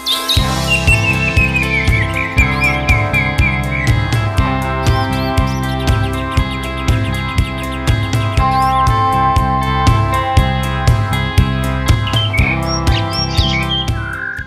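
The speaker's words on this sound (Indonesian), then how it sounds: "Yang dinilai juri dalam lomba burung cucak hijau, yang pertama adalah kicaunya merdu" A green leafbird sings loud, varied chirps and trills close by, as judged in a songbird contest, over a steady, rhythmic pulsing background that repeats throughout.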